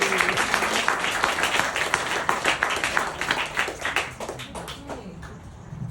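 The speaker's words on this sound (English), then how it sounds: "another round of applause, please, for Brian Martens" An audience at a poetry festival in Cafe Frida applauds a poet with dense, lively clapping that stays steady for several seconds and then thins out toward the end.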